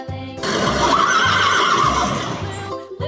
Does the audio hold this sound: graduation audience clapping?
no